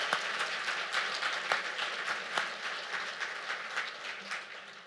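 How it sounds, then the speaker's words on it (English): A business event audience gives a steady round of applause, dense and continuous, with occasional sharper individual claps close by. "give a round of applause to the Silicon Valley Black Chamber"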